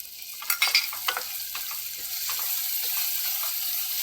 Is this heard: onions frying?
yes